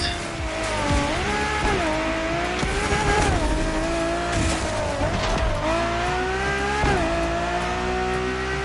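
Lamborghini and Ferrari race cars in The Crew Motorfest roar continuously with rising and falling engine revs, gear shifts and brief tire squeals, loud and close throughout.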